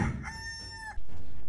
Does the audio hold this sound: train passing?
no